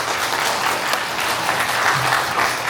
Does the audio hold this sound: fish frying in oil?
no